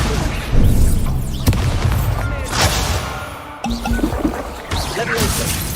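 Magical spell effects from a Harry Potter video game burst and crash in quick succession, with booming whooshes and shimmering sparkles that overlap and rise and fall across the moment.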